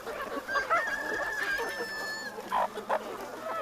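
Farm chickens raised on live feed insects cluck and squawk close by, a drawn-out call followed by short sharp clucks, with no talk.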